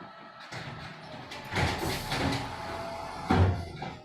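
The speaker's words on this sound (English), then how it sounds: "That's the garbage truck." A garbage truck works outside with distant mechanical clanks, thuds and a low engine rumble, rising in two louder surges.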